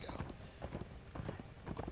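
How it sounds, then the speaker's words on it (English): Horse hooves clip-clop in the Darksiders 2 video game, a steady rhythmic trot of regular beats under voices and in-game sound. "Can I ride my horse?"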